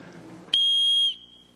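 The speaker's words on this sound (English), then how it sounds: "So if anyone hears this whistle in our community" A community safety whistle gives one loud, piercing blast lasting about half a second, then fades into a faint lingering tone in a quiet indoor room.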